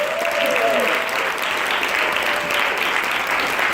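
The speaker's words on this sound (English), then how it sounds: "Give them a round of applause." Conference audience giving a round of applause, a loud continuous wash of many hands clapping at an even level throughout, with a brief whistle or cheer near the start.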